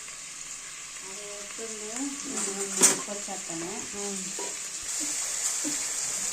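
Onions and green chilies sauté in a pan with a steady, hissing sizzle while a person talks over it nearby, followed by a sharp clink partway through.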